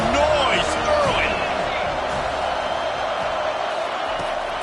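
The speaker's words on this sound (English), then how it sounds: "This crowd bringing the energy and noise early." A college football stadium crowd roars in a video game, a loud sustained wash of cheering with sharp whistles and whoops rising early, then settling into steady background noise.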